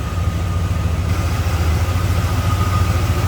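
A small block Chevrolet V8 with a 4-barrel carburetor idles in a 1970 Chevelle, a close, loud, steady low rumble with an even pulsing beat and no voices.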